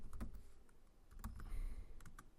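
A computer keyboard is typed on in short bursts of clicky keystrokes. They come in quick irregular clusters, close and fairly quiet, with no talk.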